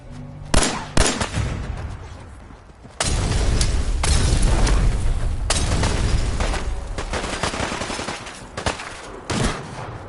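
Gunfire in the video game Fallout 4 erupts in loud bursts, first as a few sharp shots, then as a sustained rattling volley that fades into scattered single cracks.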